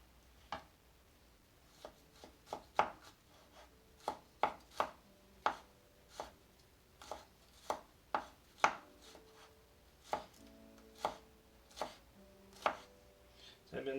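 A knife chops garlic into large chunks on a cutting board, with crisp, separate thuds at an uneven, unhurried pace that are close and clear over a quiet background.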